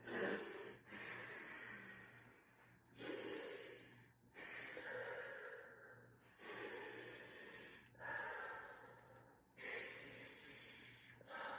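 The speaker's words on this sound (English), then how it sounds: "So breathe in through the nose." Repeated nasal inhalations during a fascia-release exercise, about six distinct breaths in a steady rhythm, close and fairly quiet, with soft snort-like sniffs and pauses between them and no talking.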